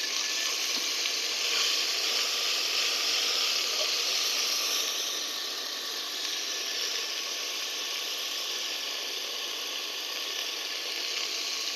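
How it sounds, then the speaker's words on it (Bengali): Onion paste, about a tablespoon, frying in oil left from fish, a steady close hissing sizzle that stays even for the whole stretch with no voices. "একই তেলে আমি আগে থেকে বেটে রাখা এক টেবিল চামচ পেঁয়াজ দিলাম"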